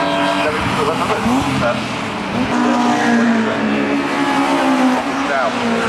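Ford Fiesta race cars in a Cadwell Park championship round roar past with high revving engines and shifting pitch, loud and continuous under a commentator's voice.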